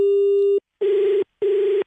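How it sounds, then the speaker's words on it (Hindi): A telephone line tone as a call cuts off: a steady beep followed by two shorter buzzing tones separated by brief silences, loud and clear with nothing else heard. "हेलो, फोन कट जा रहा है।"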